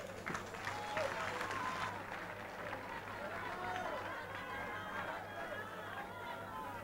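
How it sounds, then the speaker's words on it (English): An audience applauds the candidates at the Kawempe North parliamentary debate, sustained dense clapping from a sizable crowd mixed with cheers and murmuring voices, fairly distant and steady throughout. "Let's clap for all the candidates for Kawempe North"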